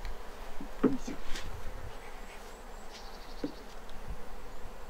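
Japanese honey bees (Apis cerana japonica) buzzing at a hive during a traditional honey harvest, with a few faint passing drones and brief handling knocks over a steady low background.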